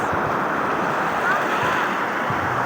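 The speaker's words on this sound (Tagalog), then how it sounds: "Lakas ng alon guys." Heavy ocean surf with strong waves roars continuously up close near moored fishing boats, mixed with strong wind buffeting the microphone.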